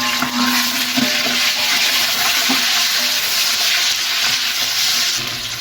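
Onion and hot green chilies frying in oil with masala for Saudi kabsa, a loud dense sizzle steady throughout with a few stirring knocks, close and without speech.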